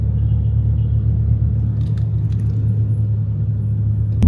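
Porsche sports car engine idling at a muscle car Sunday run in the Philippines, a steady low rumble held close and loud, with a few faint metallic clinks and no speech.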